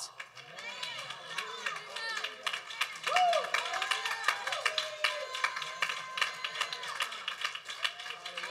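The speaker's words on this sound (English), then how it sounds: "give God a hand clap of praise on that" A church congregation at a Sunday night testimony service claps hands in praise, with quick, rhythmic, fairly close claps running throughout under excited voices and chatter.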